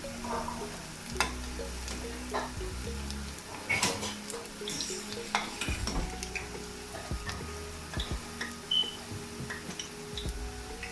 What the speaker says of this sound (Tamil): கூட ஆயில் விட்டீங்கன்னு சொன்னால் தான் இப்படி பூந்தி மிதந்து பொரியும்